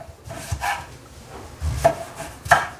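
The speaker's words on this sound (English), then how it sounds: "And to cook this zucchini, what we really want to do is go about 1/4-inch slices." A knife slicing fresh garden zucchini into quarter-inch rounds on a cutting board, giving a few distinct chopping thuds spaced about a second apart, close and moderately loud, with no talking.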